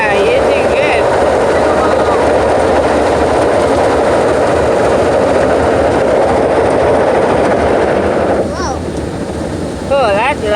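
Loud, steady roar of an automatic car wash heard from inside the car, a continuous broadband rush of spraying water and machinery that eases slightly near the end, with brief voices over it.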